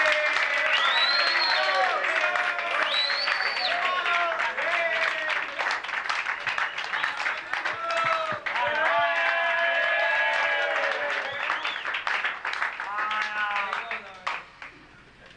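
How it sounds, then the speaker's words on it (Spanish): Loud clapping and cheering from a crowd mix with shouting and lively voices throughout, the applause staying dense until it fades near the end. "vamos a darle un fuerte aplauso a Ángel Ramos"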